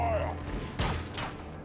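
A bolt pistol fired in a Warhammer 40K video game, two or three short heavy booming shots spaced apart, fairly loud, with faint game sounds between them.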